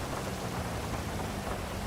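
Heavy rain and thunder in the GTA V roleplay game, a dense continuous downpour hiss with low rumbling underneath, steady and full throughout with no voices.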